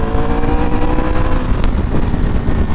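A Triumph Tiger 1200 Rally Pro motorcycle engine accelerating, loud and close, with a rough low-end roar that stays steady and dense throughout the short burst.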